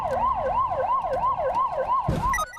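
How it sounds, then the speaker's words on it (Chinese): A police car siren wails in steady, rapid up-and-down sweeps during a car chase on a road, loud and close, with a brief thump near the end and no talk. "警铃直直响"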